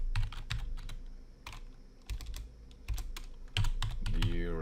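Typing on a computer keyboard, irregular close clicks and clacks in quick bursts with short pauses, ending in a brief soft electronic swoosh.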